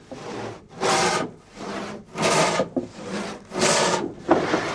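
A hand saw cuts wood for a handmade ladder used in olive picking, with four steady back-and-forth rasping strokes in a slow, even rhythm, close and clear with no talking.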